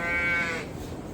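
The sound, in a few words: Suffolk and Dorset sheep in a barn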